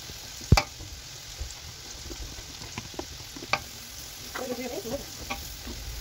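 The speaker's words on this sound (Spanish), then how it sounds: "aquí estoy colocando la cebolla le damos una meneada hasta que ella eh, se cristalice un poco" Onion frying in a pan for Brazilian farofa and being stirred, with a sharp clack of the utensil at the start, then scattered scrapes over a soft, continuous sizzle.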